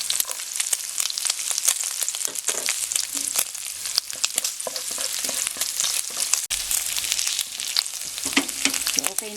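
Garlic sizzles steadily in a tablespoon of hot cooking oil for sautéed mung beans, a dense crackling fry with intermittent stirring scrapes throughout.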